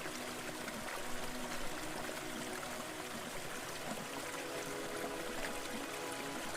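The powerful currents of a rainforest hill stream rush in a dense, steady roar of fast-flowing water, loud and unbroken throughout.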